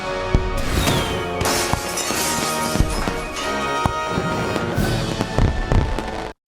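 Fireworks going off in a string of 4th of July mishap scenes, loud crackling bursts and sharp bangs one after another, dense and continuous with several heavy booms throughout.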